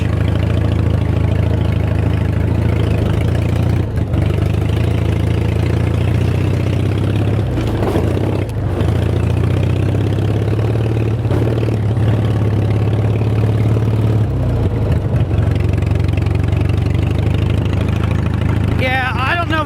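Old vehicle Dinky's engine idling with a richened mixture, a steady low rumbling drone held throughout, with a few brief dips and knocks, loud and close.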